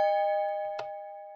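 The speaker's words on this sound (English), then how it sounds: "You should hear a bell." A single clear bell chime rings out in a Minecraft resource pack test, a bright sustained tone that decays slowly, with a brief soft click partway through.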